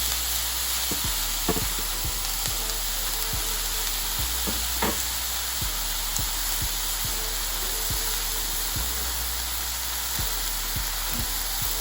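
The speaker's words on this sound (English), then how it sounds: "what I like to do is stir fry this up" Celery, garlic, carrot and fresh parsley stir-frying in a pan, a loud, steady sizzle with repeated low knocks as the vegetables are stirred and tossed, with no talking.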